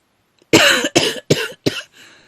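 A person coughs four times in quick, loud succession, each burst sharp and close, followed by a fainter trailing breath or throat sound; no talking.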